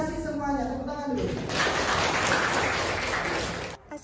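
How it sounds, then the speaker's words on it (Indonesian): Classroom applause at a school session, a burst of clapping that rises after a spoken voice and carries on for a couple of seconds before cutting off. "Tepuk tangan dulu."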